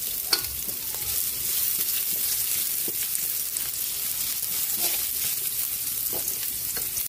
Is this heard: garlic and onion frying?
yes